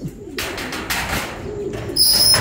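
Close, continuous pigeon cooing with a rough, throaty quality, joined near the end by a brief high chirp.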